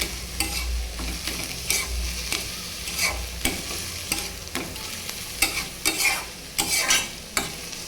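Cooked snake gourd being stirred in a pan, with a run of close, sharp scraping strokes of a spatula over a low sizzle, irregular at first and quickening toward the end.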